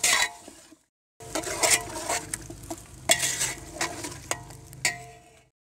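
Chicken lightly fries in a pot with salt and whipped yogurt for yakhni pulao, a soft sizzle broken by scraping stirs and metal spoon clinks, close by, after a brief silent gap.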